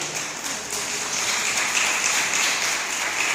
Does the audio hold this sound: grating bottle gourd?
no